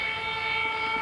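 A stealth-type military jet climbing out after takeoff and passing from left to right, a steady loud engine roar with strong high-pitched whine and tonal hum, sustained without a break.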